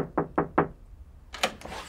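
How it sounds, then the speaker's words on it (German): Three sharp, evenly spaced knocks on a ship cabin door sound close and clear, followed after a short pause by two more softer raps. "So, jetzt klopfen wir aber."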